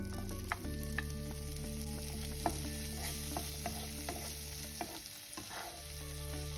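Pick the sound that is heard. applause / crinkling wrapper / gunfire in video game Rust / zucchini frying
zucchini frying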